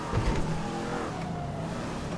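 A car in Grand Theft Auto V with a chaos mod drives and revs, the engine roaring up loudly at first, then settling into a steady droning run with the pitch sliding, with no talking.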